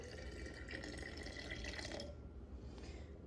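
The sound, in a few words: water poured into sourdough starter on scale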